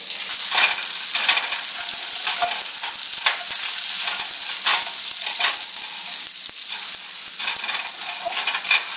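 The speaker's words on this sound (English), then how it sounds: "I'm just going to add 2 tablespoons of butter to the bottom of my pan" Two tablespoons of butter sizzle loudly in a frying pan before scrambled eggs go in, a dense, continuous frying crackle with small bursts of popping and no voices.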